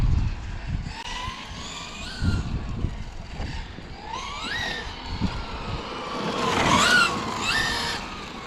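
A large-scale electric RC car runs at speed with its tires slipping: whining motor sweeps rise and fall as it passes back and forth, swelling loudest near the end, with brief scuffs and some background voices.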